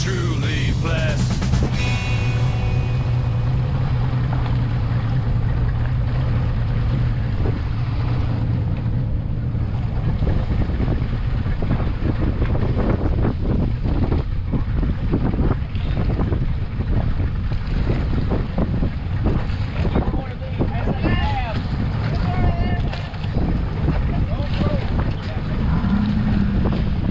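A boat runs on a trolling motor on open water, with steady wind buffeting and water noise throughout, heavy rumble at the start easing into continuous roaring wash, with faint voices at times.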